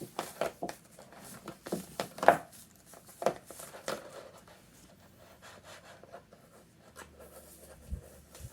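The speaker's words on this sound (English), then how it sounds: "now I'm going to turn this over and gently peel this off." Cut fabric is gently peeled off a Cricut Maker cutting mat, giving soft, intermittent rubbing and scraping rustles with short pauses, quiet and close by, with no talking.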